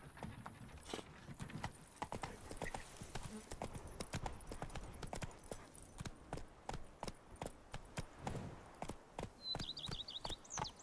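Roach, a horse in The Witcher 3: Wild Hunt (Blood and Wine), gallops with steady, loud hoof clip-clops through the whole stretch, and a short whinny or high chirp comes near the end.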